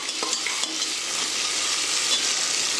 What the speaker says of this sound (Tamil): இந்த பச்சை மிளகாயே போதும் நல்லா வந்து பொன்னிறமாக நல்லா வதங்கணும்